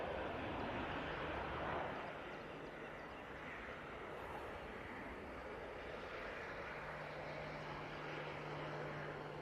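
Jet2 airliner rotating on takeoff at Manchester Airport, a steady broad engine roar that stays loud and constant throughout, heard from the spotting area with no talk over it.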